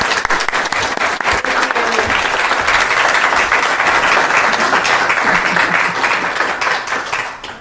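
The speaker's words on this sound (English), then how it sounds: "So I would like you to give her a warm Cape Cod welcome to Elisa." An audience at a Sunday meditation gathering on Cape Cod claps steadily to welcome a speaker. Dense, sustained applause fills the room at a constant level, then fades slightly at the end.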